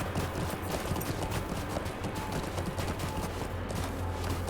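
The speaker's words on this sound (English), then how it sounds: "Let me mount up my horse." Hooves of a horse or elk mount plodding along in the online game LOTRO, a steady stream of soft clopping beats over a constant low ambient hum, with no talking.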